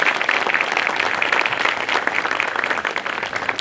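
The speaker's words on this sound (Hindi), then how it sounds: "जोरदार तालियों से उनको स्वागत कर दें।" A crowd at a Bar Council of Delhi enrolment meeting gives loud, sustained applause to welcome the vice chairman, a thick, continuous wash of clapping throughout.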